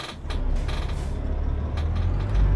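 A Renault truck idles with a deep, continuous engine rumble in Euro Truck Simulator 2, close and steady, with a few brief hissing bursts from the air brake and a heavier low surge at the end.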